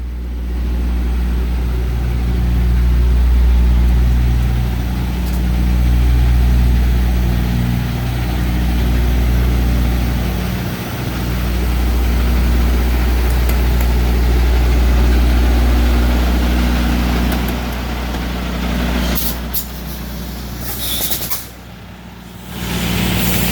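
A truck idles with a deep, steady low rumble while backing into a space in a Walmart parking lot. The hum swells and eases gently, and a brief hiss and clatter come near the end.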